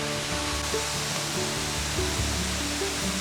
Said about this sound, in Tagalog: Diyan naman na, rinig na yung falls.